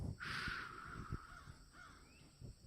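Crows caw outdoors, a few harsh calls at moderate distance standing out against a quiet background, with no talking.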